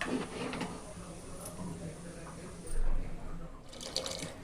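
Water poured into a simmering pot of goat-bone soup, a steady watery splash with faint drips, fairly close and heard alone.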